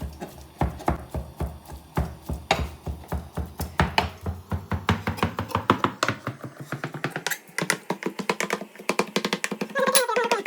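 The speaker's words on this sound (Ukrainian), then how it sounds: "І знову Нарезаем." A knife chops eggplant on a cutting board in a home kitchen: a long run of quick, sharp, evenly spaced taps, close and clear, speeding up slightly toward the end.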